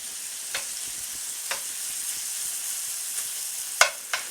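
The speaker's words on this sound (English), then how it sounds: "amazing how bacon smells in a frying pan" Bacon frying in a skillet gives a steady, close hiss of sizzling fat, dotted with sharp pops and the odd clack of a utensil, with no voices.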